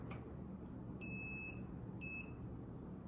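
A multimeter beeps during a continuity check on an Electrolux speed oven that has no power. Two short, clear electronic tones sound about a second apart, each lasting half a second, over a steady low background hum.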